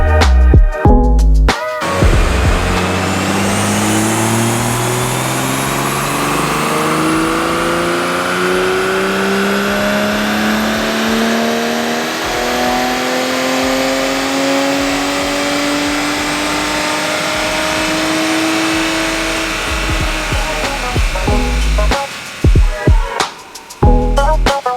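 A stock Toyota A90 Supra revs on a dyno in one long, loud pull, its engine note climbing steadily in pitch before cutting off sharply near the end.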